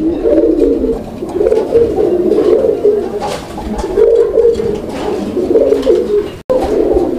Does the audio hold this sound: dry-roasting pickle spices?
no